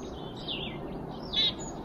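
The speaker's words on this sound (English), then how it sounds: "But they're chattering and flying back and forth." Chickadees chatter at a campsite in a New Hampshire state park: a couple of faint, quick chirps, somewhat distant, over quiet outdoor background.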